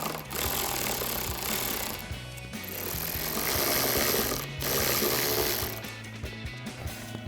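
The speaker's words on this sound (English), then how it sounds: "grab our 10mm socket again with our extension on our ratchet and tighten these down" A hand ratchet fitted with a 10mm socket and an extension tightens mounting bolts on a 2021-2024 Ford Bronco during a roof light bar install, making steady, close, loud clicking bursts with brief pauses between strokes.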